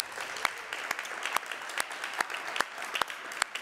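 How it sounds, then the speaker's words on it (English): Scattered audience applause in Bonn for the partners and sponsors of a 5G Consumer Entertainment Program demo day, moderate clapping with several sharper individual claps standing out over a steady patter. "So here in Bonn, we get a big applause for all the partners and all the sponsors."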